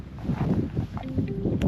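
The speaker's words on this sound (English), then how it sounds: "It's windy." Gusty wind buffets the microphone atop Hunter Peak in the Guadalupe Mountains, a steady low roar with irregular surges, with no talk.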